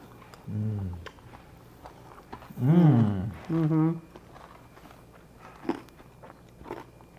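Crunchy bites of plant-based food with vegetables and sweet cherries are chewed, with faint crisp crunches scattered between voices speaking over them.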